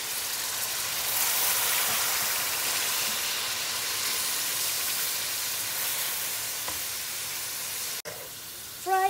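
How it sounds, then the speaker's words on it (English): Continuous hissing sizzle of boneless chicken and crushed garlic frying on high heat in a hot pan, steady and fairly loud, ending with a brief clatter. "Fry on high heat"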